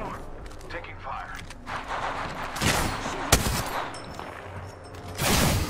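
Gunfire in the battle royale shooter Apex Legends, scattered shots and bursts crackling through busy game audio, with one sharp loud crack standing out and a heavier burst near the end.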